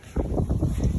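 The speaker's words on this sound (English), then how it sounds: "Damn, this wind." Outdoor wind buffets a microphone during a car engine pull, giving a loud, rough low-pitched rumble that gusts unevenly throughout.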